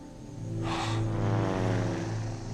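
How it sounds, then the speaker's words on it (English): A propeller plane drones overhead across remote bush wilderness, a steady low engine hum with a brief brighter swell as it passes, heard alone without talk. "Clive also hears a plane, but he knows he'll never be spotted"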